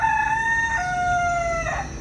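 A rooster crowing on a Hawaiian island homestead, one clear cock-a-doodle-doo with a drawn-out final note, moderately close and loud over a quiet background.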